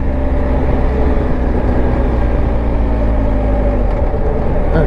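A BMW R1250 GSA motorcycle engine pulls hard on a back-country road, a loud, steady droning note with wind roar that shifts in pitch near the end as the gears change.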